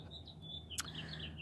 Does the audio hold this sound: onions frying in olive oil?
no